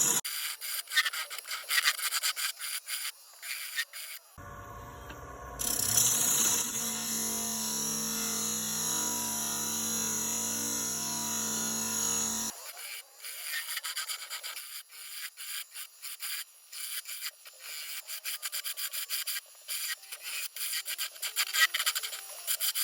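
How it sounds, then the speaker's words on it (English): Hand chisel cutting into a Big Leaf Maple wooden bowl, close rasping scrapes in rapid repeated strokes, with a longer steady grinding passage in the middle. "Really important to try to hold that chisel steady though, so it doesn't bounce around too much."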